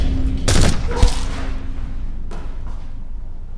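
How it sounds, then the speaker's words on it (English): Gunfire in a movie scene: a loud burst of several quick shots, a single sharp crack just after, and a fainter shot a moment later, each trailing off into a low echoing background. "You shot the director!"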